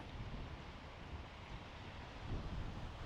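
Steady breezy wind blows across the microphone at Lighthouse Beach on a coastal walk, a continuous low rushing roar with faint surf-like texture and no voices.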